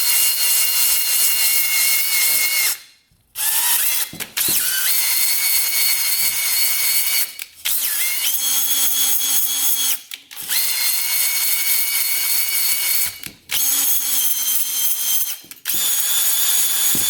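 A drill spins a hone inside a three-wheeler engine cylinder lubricated with 2-stroke oil, a loud steady whine running in several long bursts separated by brief pauses.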